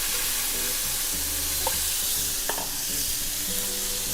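Marinated lamb searing in a hot pan, a loud, dense, continuous sizzle heard up close with no talking over it.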